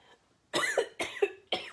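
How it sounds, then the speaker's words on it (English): Three sharp coughs in a row, close and fairly loud, each a quick harsh burst with a short pause between. "Pardon me while I cough."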